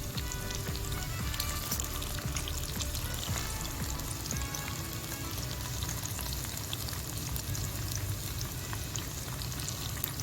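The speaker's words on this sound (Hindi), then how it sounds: "इन तमाम को मैंने मीडियम आंच पर लाइट गोल्डन कलर में फ्राई करके निकाल लिया है, शैलो फ्राई किया।" Chicken koftas shallow fry in a pan over medium heat, giving a continuous, dense bubbling sizzle that stays even throughout, moderately quiet with no speech.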